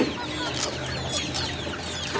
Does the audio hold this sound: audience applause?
no